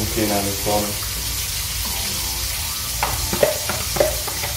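Seasoned barracuda fish goes into a hot pan and sets off a close, continuous sizzle with a few sharp spattering pops, while a voice speaks over it at times.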